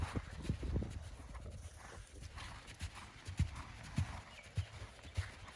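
Horse hooves clip-clopping at a walk during a training session at home, a steady rhythm of soft thuds close by, starting denser and then spacing into regular beats.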